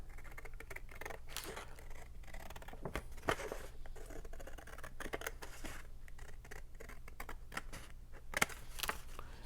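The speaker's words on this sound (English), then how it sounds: "So I'm going to go ahead and cut it out." Scissors snip through paper, cutting out a journal page flap, a close, quiet series of crisp irregular cuts and rustles with soft paper handling between them, heard alone without talk.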